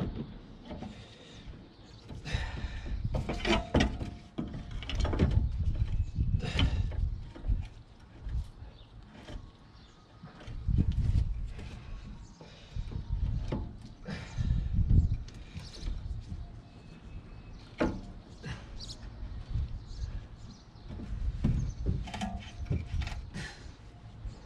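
Irregular creaks, clicks and grinding squeezes from a clamp slowly compressing the brake caliper piston on a 2011 BMW X1, close up, in bursts with quiet pauses between.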